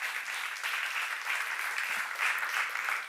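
Congregation applause during a Korean church seminar, a dense, even wash of clapping from many people, steady and moderately loud for the whole stretch with no voices over it.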